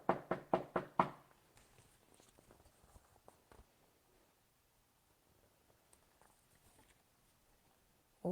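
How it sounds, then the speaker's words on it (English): A quick burst of about five sharp knocks on a door, then faint scattered taps and rustling in a quiet room, ending with one more sudden thud. "I rode my bike to his house and knocked on the door."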